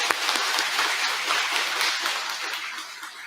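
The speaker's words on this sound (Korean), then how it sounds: "박수로 우리 먼저 환영하도록 하겠습니다" A church congregation at a Sunday service claps to welcome a university president as guest speaker, a brisk, dense round of applause that stays fairly even and slowly tapers.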